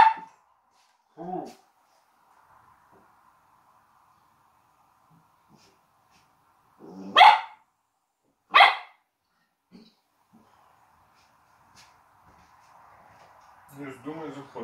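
A small ginger dog barks in short sharp bursts, a few spaced yaps with two loud close barks in the middle, over a faint steady hum in a quiet home kitchen.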